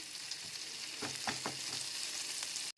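Onion and green chilli frying in a pan for Bengali Moglai paratha, a soft continuous sizzle with a few stirring scrapes in the middle, faint and steady.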